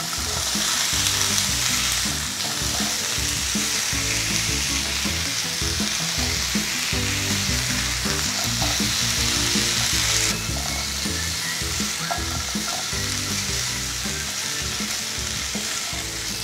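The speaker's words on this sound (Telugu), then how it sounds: "బాగా కలుపుకొని ఒక 5-6 నిమిషాలు వేగనివ్వాలి. మధ్య మధ్యలో కలుపుకుంటూ వేయించుకోవాలి." Potato pieces with onions and turmeric sizzle and fry steadily in an uncovered pan, a dense continuous crackle with frequent scraping stirs from a spoon throughout, no voices.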